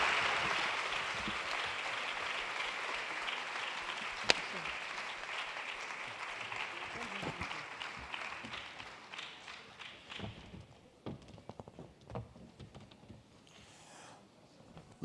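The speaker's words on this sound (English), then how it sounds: "make that round of applause loud one more time" Audience applause at a women's day conference, continuous clapping that fades gradually toward the end, with a few sharp taps and thumps mixed in.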